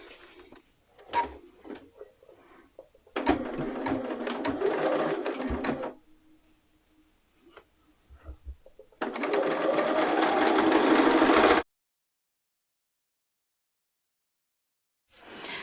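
Sewing a dress armband seam, a domestic sewing machine runs in two bursts: a steady whir of roughly three seconds, a pause with handling clicks and a soft hum, then a longer, louder run before it stops.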